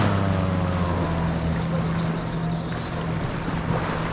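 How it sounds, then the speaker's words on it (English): A fast motorboat passing on the sea off Cozumel, Mexico, its engine droning steadily with a low hum and broad wash of wind and water, holding constant with no speech. "welcome to that fast moving boat out there."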